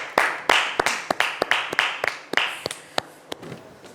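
A studio audience claps for a football player in a French-language television show, a string of about a dozen sharp, loud, evenly spaced claps that tail off toward the end.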